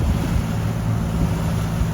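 Steady low rumble of wind buffeting the microphone on a boat on Lake Michigan, with a constant drone beneath it, continuous and fairly loud throughout.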